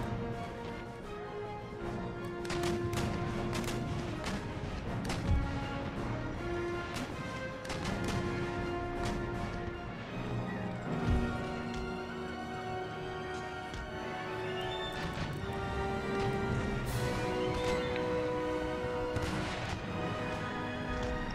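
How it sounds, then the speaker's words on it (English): Ship cannons fire round shot in a naval battle in Empire: Total War, with repeated booming shots at irregular intervals over a steady bed of game music and sea ambience, some near and loud, others distant. "Insurgent out in the distance can keep firing round shot"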